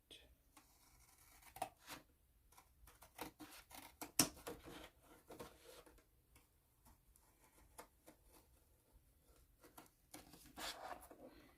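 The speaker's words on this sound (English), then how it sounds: "I think in this case the scissor will do just fine" Scissors snipping dollhouse parts, the door frame among them: quiet, sparse clicks and snips recorded close, spread unevenly over about eleven seconds.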